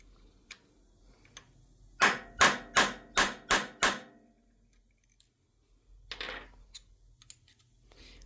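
Valve guides are hammered into a 1950 Farmall Cub engine block, with six sharp, evenly spaced metallic blows in quick succession, close and loud, followed by quieter scattered taps and a brief scraping knock.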